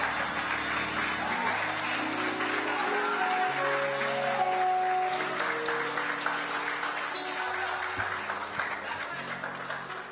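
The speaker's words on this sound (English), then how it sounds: "give him another round of applause" A church forum audience bursts into steady applause, a dense wash of clapping that holds for several seconds before thinning out, with faint voices and music under it.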